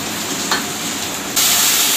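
Finely chopped tomatoes frying with onions in a pan produce a loud, dense, steady hiss that jumps to a brighter, stronger sizzle partway through.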